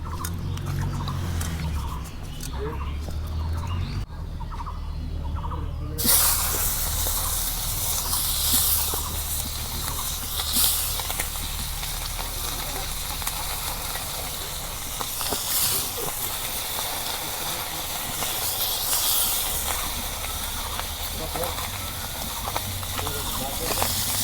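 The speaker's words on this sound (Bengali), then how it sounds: "এখন মাছ ভাজা নেব।" Small fish seasoned with dried chili, turmeric and salt fry in hot oil in a kadai, a loud, continuous sizzling hiss that swells after a quieter start while a person talks over it.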